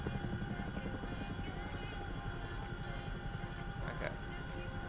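A Chinook helicopter in a video game flies with a constant, faint rotor drone and low steady engine hum, an unbroken mechanical rumble with no talk over it.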